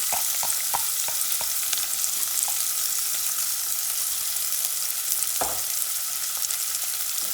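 Onion frying in a pan as the start of a sofrito for a vegan eggplant stew, a dense even sizzle with a quick run of light utensil taps early on and one louder scrape later, close up, no talking.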